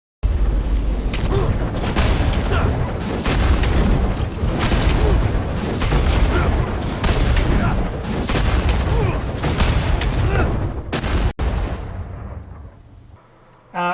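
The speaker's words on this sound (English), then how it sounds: "Throw more hammers, and hammers cause bigger explosions" Titan hammers hurled in the video game Destiny set off a dense, continuous barrage of heavy booming explosions that thunder nonstop for several seconds before dropping off to near quiet.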